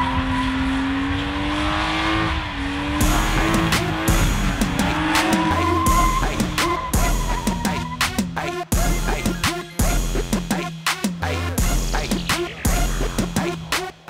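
Car tires squeal and screech repeatedly over a roaring, revving engine during street racing, loud and close, with sharp bursts of burning rubber.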